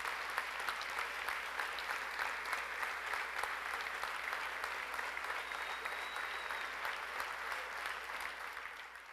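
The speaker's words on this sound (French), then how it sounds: "qu'on leur donne une bonne main d'applaudissements" Sustained audience applause at a mayor's dinner gala, a steady dense wash of clapping from a large room that holds evenly for several seconds and tapers slightly at the end, with no talk over it.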